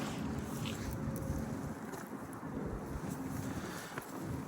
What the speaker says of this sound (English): It's very, very windy, y'all.